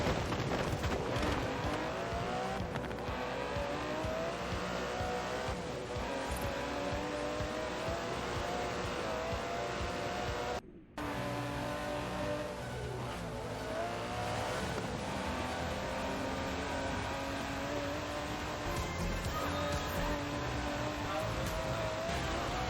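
Aston Martin DB11 engine in the Forza Horizon 4 racing game, a loud, sustained roar that rises and falls through revs and gear changes, broken by one brief cut midway, with tyre noise and no talking.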